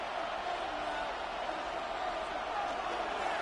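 Steady roar of a football stadium crowd in a video game, a 49ers matchup on third and one, swelling continuously and filling the background at moderate loudness.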